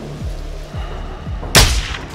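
Sniper rifle shots ring out in Call of Duty: Modern Warfare II (2022) during the Recon By Fire mission, three muffled low thumps followed by one loud, sharp crack, with no talking.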